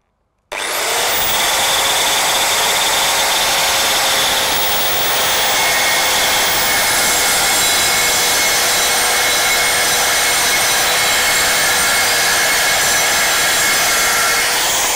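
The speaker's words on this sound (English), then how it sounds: "I need to cut my timbers so they are 68mm wide on this particular platform." Timber being cut for a model railway station platform, a continuous loud whining buzz of a powered saw running steadily through wood for several seconds after a sudden start, with no pauses.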